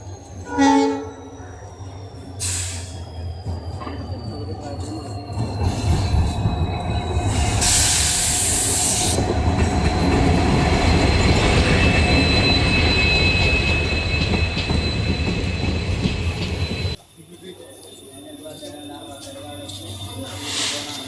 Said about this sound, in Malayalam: ഇത് രാജറാണി എക്സ്പ്രസിൻ്റെ റേക്കാണ്